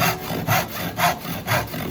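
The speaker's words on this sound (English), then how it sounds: "Okay, so I'm lining the front of the saw up with my cut." A hand saw cuts through a subfloor sheet in a model house build, making close, rhythmic rasping strokes, about four back-and-forth passes in quick succession.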